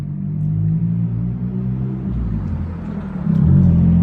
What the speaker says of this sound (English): Apologies for the noise. The car just went past.